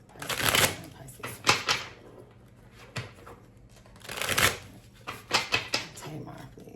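Tarot cards shuffled in quick riffling bursts, two long rustling runs with shorter flicks between, close and fairly loud; a voice talks over part of it.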